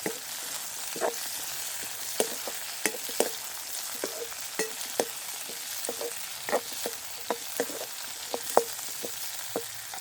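Pirandai (adamant creeper) tossed in a pan with mustard seeds, black pepper and cumin, a steady low sizzle broken by frequent sharp ladle scrapes and clacks in an uneven rhythm, close and fairly loud, no voices.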